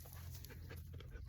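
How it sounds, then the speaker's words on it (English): A pet dog named Sarge pants steadily and rapidly close by, a continuous rough breathy rhythm with no talking over it. "Look at this dog."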